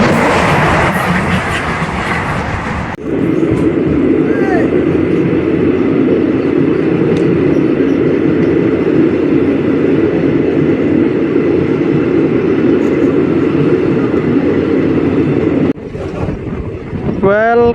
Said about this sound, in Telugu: మన ట్రైన్ అయితే ఏకాంబరకుప్పం రైల్వే స్టేషన్కి అయితే వచ్చేసింది